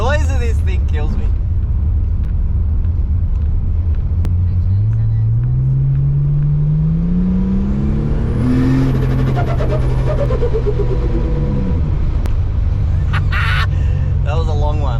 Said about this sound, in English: if you build up boost and then sort of let off the accelerator real lightly, it'll flutter for a long time